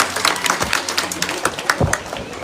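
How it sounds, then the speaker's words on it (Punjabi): A crowd at an election campaign rally in Nabha, Punjab, breaks into scattered, uneven hand claps, a brief patter of individual slaps rather than a sustained roar, fairly close. "ਇੱਕ ਵਾਰ ਜ਼ੋਰਦਾਰ ਤਾੜੀਆਂ ਆਪਣੇ ਆਪ ਲਈ ਆ ਨਗਰ ਕੌਂਸਲ ਨਾਭਾ ਲਈ"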